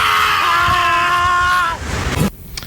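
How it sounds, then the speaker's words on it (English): A goat gives one long, loud, wavering cry that sounds almost human and trails off, followed by a brief noisy rustle. "goats scream"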